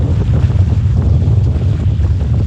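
Wind of about force 2 to 3 buffets a sailboat during regatta sailing, loud gusty roar hitting the microphone along with low rumbling water, steady and close with no talk.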